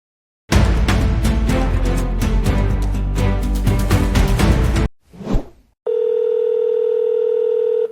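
A telephone call's ringing tone sounds as a steady, unbroken electronic tone that starts after a burst of loud music and a brief whoosh, and it holds until the end with no voices.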